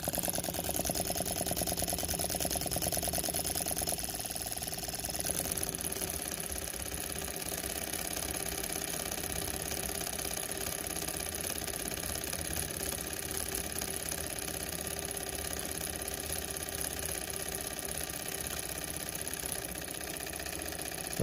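A small electric motor with a 150-turn rotor running on 7 volts, giving a steady whirring hum with a faint rattle and vibration that holds evenly throughout, with no voices.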